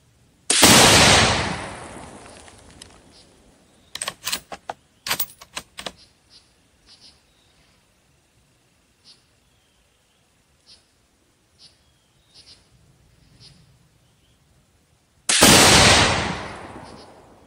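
A Savage Axis II heavy-barrel rifle in 6.5 Creedmoor fires two loud, sharp shots about fifteen seconds apart, with quieter mechanical clicks and handling noises in between.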